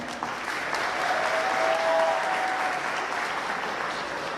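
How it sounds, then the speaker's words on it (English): Guests applauding helpers at a wedding reception, a loud, steady roar of clapping from a large crowd that swells slightly in the middle and continues evenly for several seconds. "I just want to give them a round of applause"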